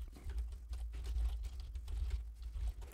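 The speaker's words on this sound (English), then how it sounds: "I'm just gonna type in some text and then I'll be back once I've typed it in." Text being typed on a computer keyboard, with a quiet, irregular patter of key clicks over a low background rumble and no talk.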